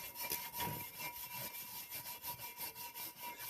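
Brake parts from a 1999–2006 Chevy Silverado are scrubbed to strip old rust and flakes, giving a quiet, steady rhythmic rasping of back-and-forth strokes close by with no talk.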